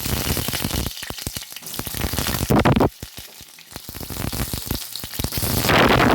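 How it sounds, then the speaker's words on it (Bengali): Potatoes hit hot oil in a kadai and fry with a loud, crackling sizzle, broken by bursts and short pauses, for a vegetarian aloo dum. "তেল গরম হয়ে গেছে, তেলের মধ্যে আলুগুলো দেব।"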